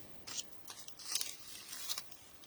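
Scissors snip through small foam stars in a craft project, a few soft, close crunching cuts in quick succession, faint and without talk.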